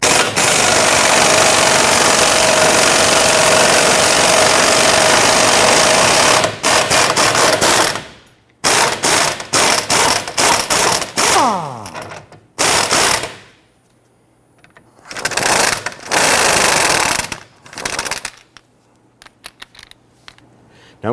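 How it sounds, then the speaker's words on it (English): Loud sustained mechanical whirring from a power tool with a 22mm socket on a 2006-2010 Honda Ridgeline rear strut bolt, then bursts of rapid ratcheting clatter separated by short pauses, close up with no talking. "loosen and remove this rear bolt here. We're going to use a 22mm socket on the outboard bolt."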